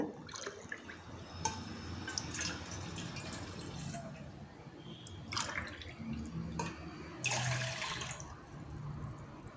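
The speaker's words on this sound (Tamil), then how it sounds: "இதில் ரெண்டு டம்ளர் அளவுக்கு தண்ணி ஊற்றிக்கோங்க" Water poured into a cooking bowl for a homemade hair dye splashes and trickles in a steady stream, with brief louder gushes and drips, fairly close and alone.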